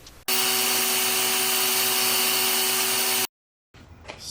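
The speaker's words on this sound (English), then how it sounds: "I'm going to line up the Dremel tool, and I'm going to try and see if I can grind it to the correct depth." Dremel rotary tool grinding a ring pin groove into a steel CV axle shaft for a Dana 30 front axle, a loud, steady high whine that runs continuously for about three seconds, then cuts off abruptly.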